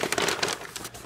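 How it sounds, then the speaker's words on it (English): Brown wrapping paper crumples and crinkles up close in a steady, busy rustle of crackling paper, with no voices. "Brown wrapping paper."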